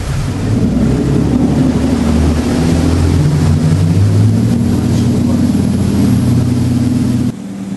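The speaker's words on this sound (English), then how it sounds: "what's going to happen is the diesels will start." The diesel engines of a hybrid concept boat rumble loud and steady, with a heavy low drone and a broad, wind-like roar that hold throughout and drop off only at the very end.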